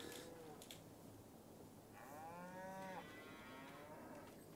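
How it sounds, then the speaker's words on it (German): A cow in Farming Simulator 22 gives a long, drawn-out moo with smooth rising and falling tones, fairly faint and alone over a soft background bed, without speech. "Ja, eine Kuh macht Mu."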